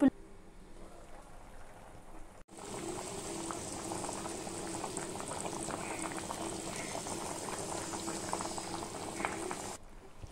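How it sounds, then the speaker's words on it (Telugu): Andhra fish curry (bommidayila pulusu) bubbling steadily on a medium flame, a dense, even simmering crackle that runs for about seven seconds after a brief quieter start. "10 నిమిషాల దాకా బాగా ఉడికించుకోవాలి బొమ్మడాయల పులుసుని మీడియం ఫ్లేమ్లో పెట్టుకొని"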